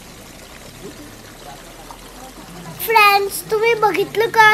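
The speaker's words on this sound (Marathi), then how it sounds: "हे नळ पण कंटिन्यूस वाहत राहतो त्या पहाडातनं वरचा." A tap fed from the hillside above runs continuously as a soft, steady water rush; a voice then talks loudly over it.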